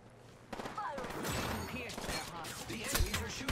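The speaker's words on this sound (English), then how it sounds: "The enemies are shooting at me." Enemy gunfire in Apex Legends rattles in dense, continuous bursts through most of the stretch, loud and busy, with voices talking over the fight.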